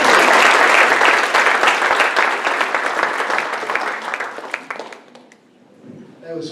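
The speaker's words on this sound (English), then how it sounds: "All right, we can all applaud now." An audience applauds at a photography club meeting, with loud, dense clapping from many hands that gradually thins out and fades to near silence before a brief murmur at the end.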